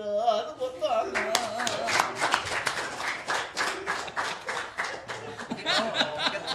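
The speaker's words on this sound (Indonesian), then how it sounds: "Tepuk tangan." An audience claps steadily throughout, a dense patter of hands mixed with some laughter and chuckling, with musical tones and voices audible at the start.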